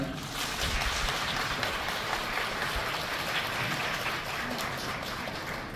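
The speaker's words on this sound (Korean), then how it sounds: "힘찬 박수 부탁드립니다." Wedding guests give a hearty round of applause as the ceremony opens, a steady, moderately distant wash of clapping that holds evenly throughout.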